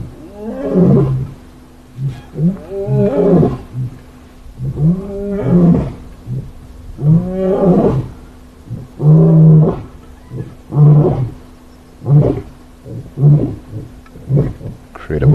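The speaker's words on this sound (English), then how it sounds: "rather just the male at the front is roaring" Male lions on safari roar while on the move, a long series of deep, loud grunting roars building in a steady rhythm, close and dominating, with faint talk at times.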